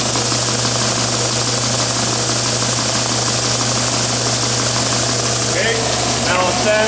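An oscillating belt sander runs with a loud, continuous motor hum and steady drone throughout, with a few faint squeaks near the end.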